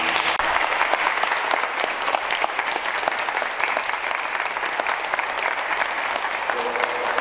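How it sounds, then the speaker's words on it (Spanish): Guests at a Catholic church wedding ceremony in a small Mexican town clap together, a continuous, even burst of many hands filling the space for several seconds, fairly loud and sustained, with a murmur of voices underneath. "Les damos un aplauso."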